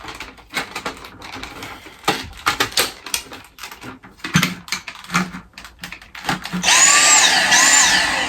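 A first-generation Dyson V6 cordless stick vacuum with no suction is handled with clicks and knocks for several seconds, then switches on into a loud, steady motor roar with a high whine near the end.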